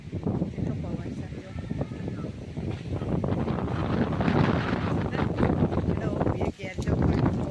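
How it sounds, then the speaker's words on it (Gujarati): Strong gusting wind roars at a home during a sudden storm with rain, buffeting the microphone in a dense rumble that swells louder midway, with someone talking underneath. "જેટલો પવનનો અવાજ આવે ને જેટલો પવન છે"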